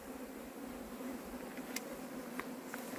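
Bees in a hive set in a wooden stump hum in a low, steady, faint drone, with a few brief buzzes passing close.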